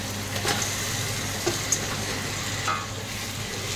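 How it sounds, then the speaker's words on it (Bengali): Potatoes are stirred into a sizzling spice paste in oil for aloo dum, with a continuous fry hiss and a few scraping stir knocks close by, and no voices. "মিশিয়ে নিচ্ছি মশলার সাথে আলুগুলোকে।"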